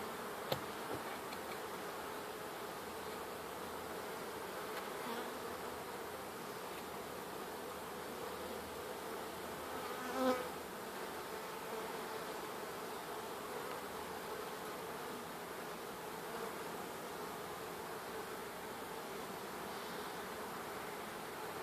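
Honey bees buzz around a barrel top bar hive during an inspection, a soft, steady, dense drone of many insects with a faint brief click partway through.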